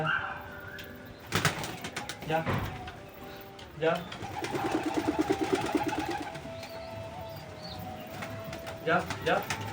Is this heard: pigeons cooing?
yes